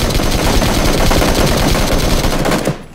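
Dense rapid gunfire blasts nonstop in a video game, loud and close, a sustained automatic rattle that cuts off sharply near the end.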